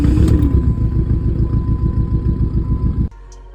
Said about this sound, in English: the car just started bugging, started running way worse